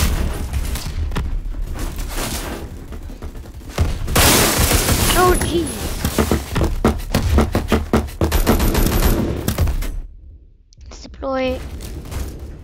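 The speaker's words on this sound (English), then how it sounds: "I think somebody's shooting an M16" M16 rifle fire in the online shooter game Phantom Forces, dense bursts of loud gunfire and booms layered with other weapons across a chaotic battle, with a voice talking over it, dropping briefly to near quiet before a few final sounds.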